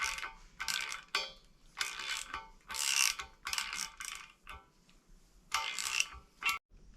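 A ratchet wrench tightening towbar bolts on an Audi A3 to 68 newtons, close and clicking in repeated bursts of quick pawl ticks separated by short pauses.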